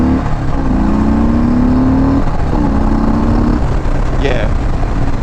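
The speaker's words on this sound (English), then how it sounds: "Yeah, this bike accelerates amazingly." A 2019 Harley-Davidson Sport Glide motorcycle accelerates hard, its engine note rising in two long revving pulls over steady wind and road rush, with a brief higher whine near the end.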